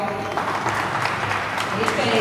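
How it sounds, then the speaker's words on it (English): Audience applause at a media event, a steady dense clatter of clapping filling the room, with some vocal sound mixed in beneath it. "Can we give her a round of applause?"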